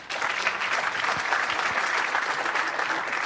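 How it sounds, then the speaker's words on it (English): An audience applauds a speaker introduced for a lightning talk at a tech conference, steady, dense clapping throughout. "Please give him a big round of applause."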